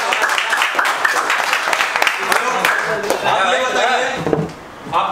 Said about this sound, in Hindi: लो भाई एक बार इनके लिए जोरदार ताली बजाइए